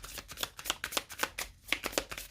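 Tarot cards are shuffled and cut by hand in a quick series of soft, crisp riffling flicks at close range, fairly quiet, with no voices.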